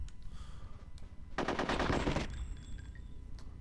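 Rapid machine-gun fire bursts out for about a second in the Conker's Bad Fur Day war level, loud and dense, framed by quieter game ambience and a few faint electronic tones afterward.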